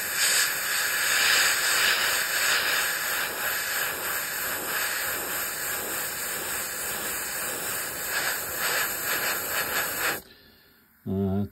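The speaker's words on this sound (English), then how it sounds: "let's just see how this prehistoric ancient Aeromaster paint airbrushes" An airbrush sprays Aeromaster paint thinned with AK thinners onto a 1/72 Me262 model, giving a steady close hiss for about ten seconds before it cuts off briefly and resumes.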